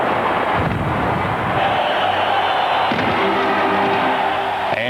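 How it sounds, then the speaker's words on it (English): Midnight fireworks burst over the Eiffel Tower in Paris, a dense continuous rumble of booms and crackles mixed with a distant crowd, loud and sustained throughout. "brilliant firework explosions climbed the Eiffel Tower until the whole structure"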